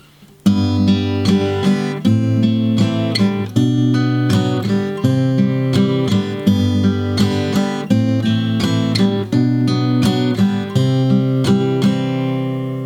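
Acoustic guitar plays a steady fingerpicked pattern, plucked notes rolling evenly over sustained chords, clear and close, with no voices.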